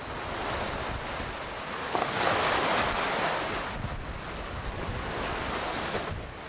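Wind and breaking waves surround the sailing yacht Milda on the Atlantic Ocean, a loud, continuous broadband rush with gusts of wind buffeting the microphone and no voices.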